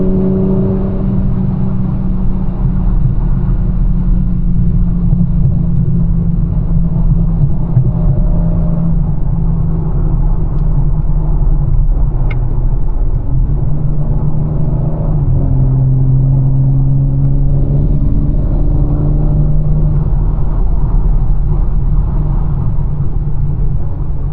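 A BMW M4 Competition drives fast along a mountain road near Stevens Pass, its engine a loud, steady, droning rumble with subtle shifts in pitch as it holds speed through the bends.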